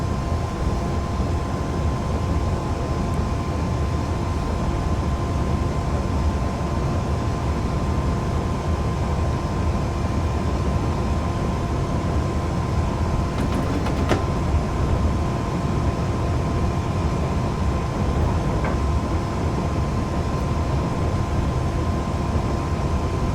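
Class 370 APT tilting train running in Train Sim 2021, a steady low rumbling drone of traction and wheels on track, continuous and even throughout with a faint brief high squeal midway.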